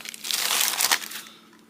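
Crinkling plastic packaging being carefully unwrapped from Yugoslavian AK magazines, a dense close crackle that swells over about a second, then fades.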